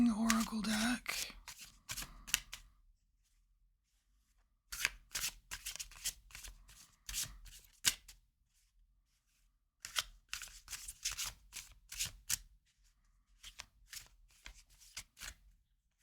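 An oracle card deck is shuffled by hand in close, crisp riffling bursts separated by quiet pauses, with a voice speaking briefly at the start.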